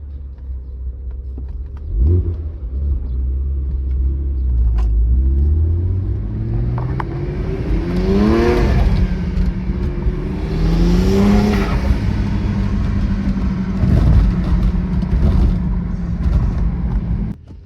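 A BMW E82 135i with a limited-slip differential and short-throw shifter pulls away, its engine rising through several rev climbs and gear changes before settling into a steady, loud cruising drone heard from inside the car.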